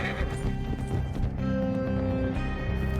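Rhythmic hoofbeats of a galloping horse with a steady clip-clop in Red Dead Redemption 2, set against a dense game soundtrack, with no voices.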